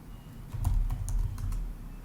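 Short burst of quiet typing on a computer keyboard as the ls command is entered: a few distinct close key clicks in quick succession over a faint background hum.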